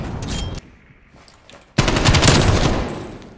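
Call of Duty Cold War gunfire rattles in a quick automatic burst, pauses briefly, then erupts into a louder, sustained stream of shots that slowly tapers off.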